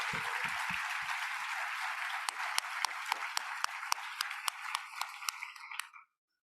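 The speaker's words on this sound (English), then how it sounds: "Let's give Commissioner Stroman another round of applause." Applause from an audience at a congress opening, a dense wash of clapping that thins into a few separate, sharper claps near the end before stopping.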